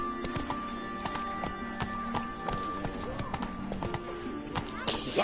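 A horse gallops in The Witcher 3 with quick, rhythmic hoofbeats close up. A voice talks over the running.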